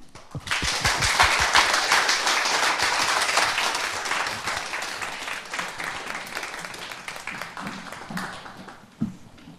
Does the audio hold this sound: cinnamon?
no